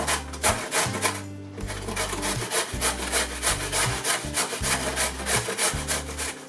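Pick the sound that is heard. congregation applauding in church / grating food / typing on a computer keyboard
grating food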